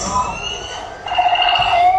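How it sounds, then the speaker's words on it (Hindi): Sirens wail during an attack on Ali Al Salem airbase in Kuwait, a loud rising and falling tone with a second siren layering in partway, and a voice talking underneath. "सायरन बज रहे हैं, अफरा तफरी का माहौल है।"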